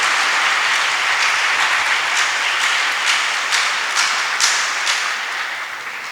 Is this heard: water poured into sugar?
no